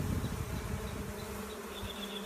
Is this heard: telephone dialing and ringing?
no